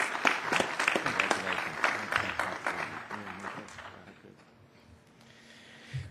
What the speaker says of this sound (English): Round of applause for Phil McAlister.